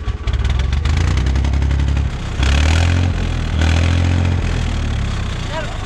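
Engine of a Fiat 480 tractor running and revving in a yard, loud and close, a continuous diesel rumble that rises and falls with throttle blips, with people talking over it.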